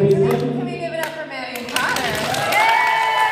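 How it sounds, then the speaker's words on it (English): Clapping from a convention audience after a bookstagram panel comes as scattered sharp hand claps with voices talking and calling out over them. "Can we give our panelists a quick round of applause?"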